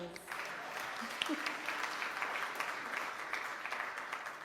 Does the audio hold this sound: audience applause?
yes